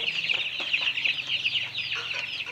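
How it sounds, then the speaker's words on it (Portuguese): Young chicks eating grass on a farm peep and cluck constantly, a dense, close chorus of high chirps overlapping without pause. "os pintinhos comendo capim"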